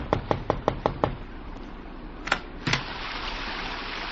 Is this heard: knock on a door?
yes